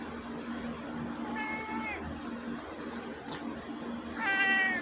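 A cat meows twice, a short mew and then a louder drawn-out one, over a low steady background hum.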